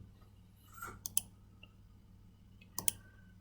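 Two quick double clicks of a computer mouse, one near the start and one toward the end, sound crisp and close in an otherwise quiet room with a low background hum, while a serial terminal is set up on a PC.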